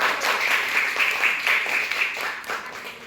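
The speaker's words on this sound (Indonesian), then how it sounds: "Tepuk tangan dulu dong untuk kelompok 1" Classroom applause for a student group, a dense even patter of many hands clapping steadily for about three seconds with a faint voice underneath.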